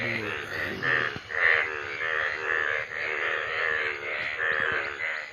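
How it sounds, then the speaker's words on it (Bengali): Frogs croak in a steady chorus in a rural village after rain, a dense continuous layer of calls with overlapping croaks close by, and a voice or two briefly mixed in. "ব্যাংকগুলো ডাকতেছে।"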